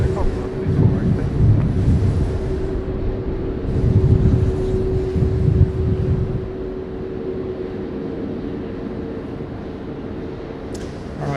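A passenger plane taking off from runway 16 right at Sydney Airport gives a distant, rumbling engine roar that swells and fades. A steady hum sits underneath, and a voice talks over part of it.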